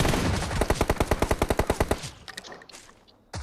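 Rapid automatic gunfire in PUBG Mobile, a close, loud burst of about fifteen evenly spaced shots over two seconds, followed by fainter scattered shots and a final sharp report.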